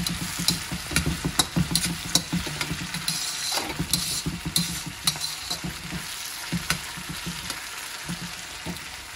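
Carrots, red, green and yellow bell peppers and onion frying in a pan for veg Manchurian, with a steady sizzle broken by repeated clacks and scrapes of a spoon stirring, close and fairly loud, no voices.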